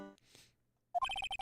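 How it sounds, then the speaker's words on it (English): A phone ringtone in the Phoenix Wright: Trials and Tribulations video game: a repeating electronic chirp pattern, several quick bright pulses in a steady rhythm, loud and clear after a short quiet gap and a faint earlier blip. "What kind of ringtone is that?"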